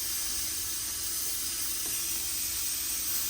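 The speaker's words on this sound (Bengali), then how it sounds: "এদিকে প্রেসারের সিটি পড়ছে" A pressure cooker releasing steam through its whistle, a continuous faint airy hiss that holds steady for a few seconds with no voices.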